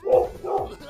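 A dog barks twice from somewhere close by in a home, two short, full woofs spaced about half a second apart, sounding off-screen over a River City Girls speedrun.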